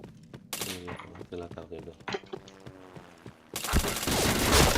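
A video game shooter fires in bursts of sharp shots followed by a sustained rattle of automatic gunfire, with players talking over the action.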